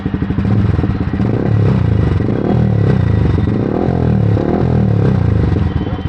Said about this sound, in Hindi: मैं पहले ना आपको थोड़ी सी आवाज़ सुना देता हूँ, क्योंकि मैंने एग्जॉस्ट के बारे में बहुत सारी बातें कर ली।